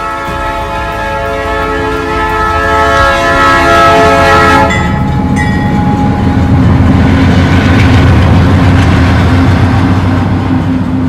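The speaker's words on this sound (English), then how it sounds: "Lots of Amtrak trains pass through the city of Crockett." An Amtrak passenger train rolls past nearby in Crockett, California, with a long sustained horn blast early on, then continuous loud rumbling and clatter of cars going by.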